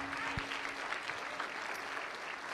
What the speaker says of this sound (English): Guys, why don't we give Isaac a big round of applause?